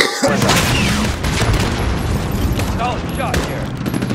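Sustained gunfire rattles through a battle in Call of Duty: Modern Warfare (2019), loud, dense overlapping bursts and booms with voices shouting underneath.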